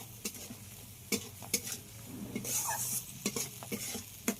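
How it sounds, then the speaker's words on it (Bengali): Ground spices with salt, turmeric, coriander and cumin being stir-fried in a pan, with a quiet sizzle under scattered sharp scrapes and clinks of a spatula against the pan, including a brief louder hissing burst midway. "সব কিছুকে খুব ভালোভাবে কষিয়ে নিতে হবে।"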